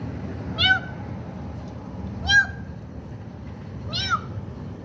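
A cat meows three times at evenly spaced intervals, each a short rising-and-falling call, fairly close over a quiet low background hum.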